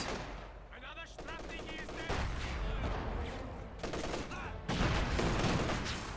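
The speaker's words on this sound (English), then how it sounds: "Flak half track engaging the penal squad" Rapid bursts of flak half-track gunfire from Company of Heroes 2 battle against infantry, dense continuous automatic fire with explosions layered in, loud and sustained throughout.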